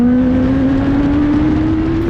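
Rush SR racecar with a Suzuki GSX-S1000 motorcycle engine revving hard, a loud, steady high-pitched whine that climbs slightly in pitch throughout, close and continuous with no talking.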